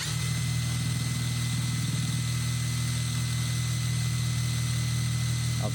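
A YUANSEN cordless drill-driver runs at second speed, a steady motor whir and hum held close and even throughout with no pauses, no talk.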